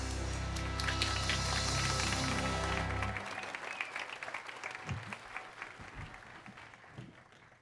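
Applause at a school district education awards ceremony swells beneath the tail end of loud music, then carries on alone as scattered clapping that slowly fades.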